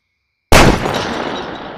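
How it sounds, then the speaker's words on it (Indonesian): A large firecracker goes off after half a second of silence with a single loud, sharp bang. It leaves a broad rumbling decay that fades slowly. "Langsung aja nyalain petasan yang agak besar."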